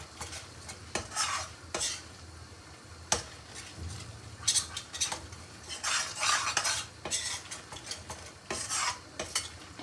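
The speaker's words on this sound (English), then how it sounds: "Just cook the butter and the flour." Butter and flour cooking in a pan for lasagna white sauce, stirred briskly so a utensil scrapes and clinks against the metal in irregular bursts over a soft sizzle.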